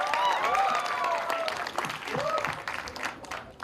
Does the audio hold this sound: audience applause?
yes